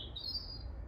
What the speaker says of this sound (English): with a beautiful little blackbird in the background.